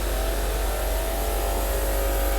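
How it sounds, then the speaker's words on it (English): Huge engines of a Sunseeker 121 superyacht run inside the engine room, producing a loud, constant drone with a deep low hum and a broad mechanical whir filling the space, with no speech. "As you'll see, these are huge engines."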